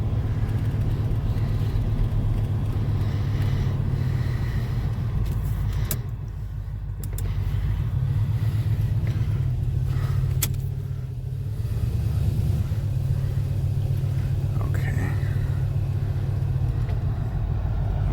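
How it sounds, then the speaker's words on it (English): A 1984 Pontiac Grand Prix accelerating and shifting gears, heard as a steady low engine drone with rumble. The drone dips briefly a few times as the gears change, with no talk over it. "I'm going to go ahead and give her the gas and show you"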